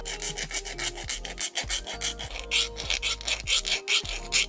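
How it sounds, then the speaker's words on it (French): A screw being filed by hand, rapid rhythmic rasping strokes back and forth, close and fairly loud, about a dozen strokes in quick succession. "On va relimer ça un coup."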